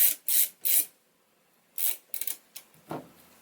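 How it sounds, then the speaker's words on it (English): A magnetic screwdriver works screws during a PC build. Sharp, close bursts of ratcheting and clicking come in short separate spurts with quiet gaps between them, and nobody speaks. "magnetic Linus Tech Tip screwdriver"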